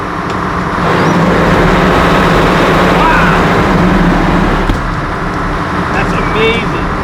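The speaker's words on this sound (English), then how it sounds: "These are the actual main engine exhausts." Main engine exhaust roar aboard a superyacht with MTU 16V 4000 series engines, a loud, steady broadband drone filling the whole clip, with a person talking faintly over it.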